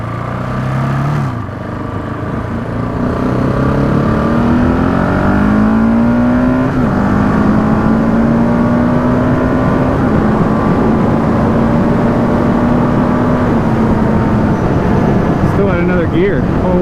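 A new Husqvarna 701 Enduro motorcycle's single-cylinder engine revs loudly while being ridden. The pitch climbs, drops briefly at gear shifts and then holds a steady, droning note under rushing wind.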